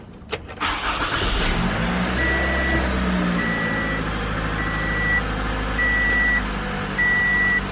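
A 2012-2017 Toyota Camry XV50 cranks and fires, then settles into a steady idle. A sharp start at the beginning gives way to an even running hum, and a repeating electronic beep chimes at intervals over the engine.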